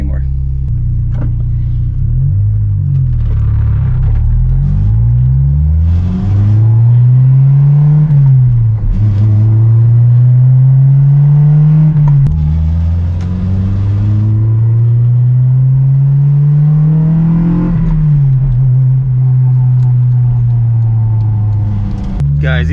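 A Honda S2000 with a hardtop drives and accelerates, its engine rising and falling in pitch through the gears with a steady rumble, loud and close under continuous talking.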